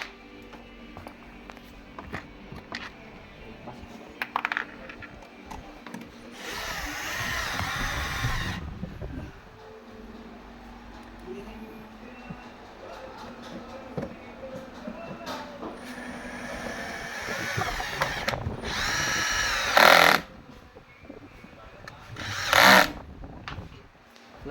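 A power drill fastens bolts while a Yokisa massage machine is reassembled, giving several loud whirring bursts of a few seconds each between quieter handling noises, with a voice speaking at times.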